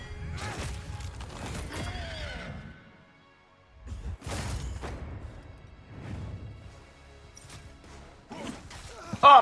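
Horse neighs in Prince of Persia The Lost Crown, a few whinnying calls at moderate volume among clattering game sounds and brief quiet pauses.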